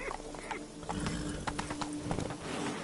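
Hooves of Roach, a horse in a video game, clip-clop in a steady galloping rhythm close by, with a brief whinny-like tone mixed in and no talking.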